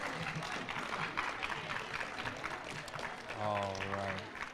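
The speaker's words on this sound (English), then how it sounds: "One more round of applause." Audience applause fills a school gymnasium during a sixth grade honor roll assembly, steady clapping from many students and parents, with a few voices and a sustained tone rising near the end.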